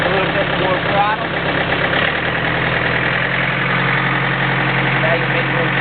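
A John Deere 110 TLB loader backhoe engine runs close by at a steady idle, its low rumble deepening slightly about two seconds in and continuing evenly to the end.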